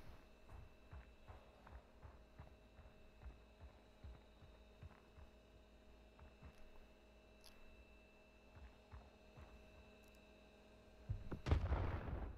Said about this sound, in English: I hear an explosion. Well, he's railgunning it.